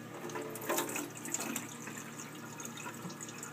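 Water runs through a small fine-mesh strainer as brine shrimp are drained, a close, steady trickling and splashing that peaks early, then settles into a softer flow, with no talk.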